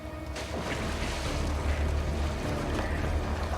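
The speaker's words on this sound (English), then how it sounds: "It's the waterfall." Continuous rushing water roar from a waterfall in an animated Star Wars: The Bad Batch episode, a broad steady wash with low rumble underneath and no speech.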